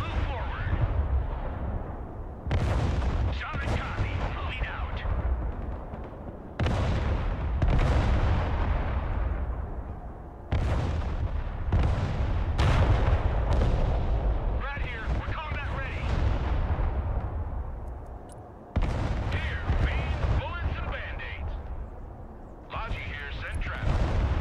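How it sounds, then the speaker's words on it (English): Heavy artillery fire booms repeatedly in the war strategy game Broken Arrow, loud close blasts with long rumbling decays arriving every few seconds over a continuous low battlefield roar. "Placing artillery on this location."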